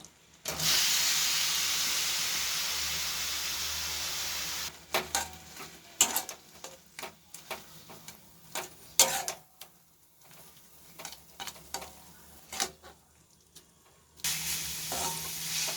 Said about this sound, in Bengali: এবার এর মধ্যে আগে থেকে সেদ্ধ করে রাখা পেঁপে দিয়ে দেব।